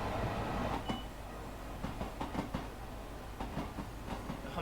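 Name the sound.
Long Island Rail Road train running in Train Sim World 2 video game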